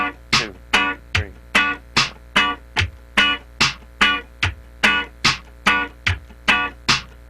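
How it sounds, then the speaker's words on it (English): Muted funk rhythm guitar plays even downstrokes landing on the third 16th note, a brisk regular series of short percussive chord scratches, close and clear with no talking. "The next downstroke is called the upbeat."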